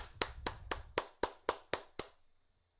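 Eight sharp, evenly spaced hand claps in a steady rhythm, close and loud against a quiet room, ending with a short fading tail.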